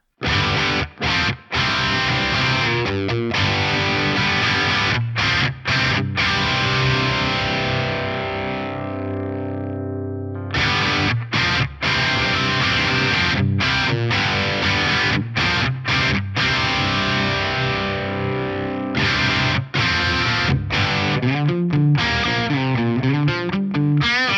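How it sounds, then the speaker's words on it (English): An electric guitar plays chords and riffs through an Axe-Fx III amp modeler with the overdrive control turned down, giving mild overdrive, one chord left ringing briefly midway. "let's just hear it with that overdrive control turned down."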